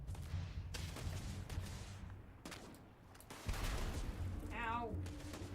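Missiles strike in the space game Starfield: a string of heavy, booming explosive impacts with crackling bursts, fairly quiet overall and spaced irregularly, with a brief warbling electronic tone near the end.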